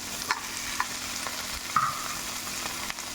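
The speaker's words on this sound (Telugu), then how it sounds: "బెండకాయలు కూడా వేగాలి కదా." Okra sliced with onions frying in a pan, a soft continuous sizzle with a few light stirring clicks, faint and close.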